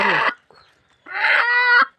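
Close, loud clucks from a rooster come in two separate bursts with a short silent gap between them, and nobody speaks.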